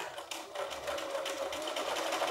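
A sewing machine runs steadily through fabric while a patchwork pillow is pieced, a continuous close whirring with a faint tone, no talk over it.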